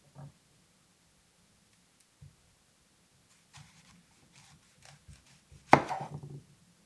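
Knife slicing through trimmed fennel bulbs on a cutting board, a few faint scattered taps, then one sharp louder chop followed by a brief crunchy cluster of cuts near the end.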